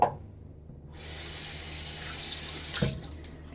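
Tap water runs steadily into a sink for rinsing during a wet shave, a continuous close faucet splash lasting the whole stretch with a brief clatter near the end.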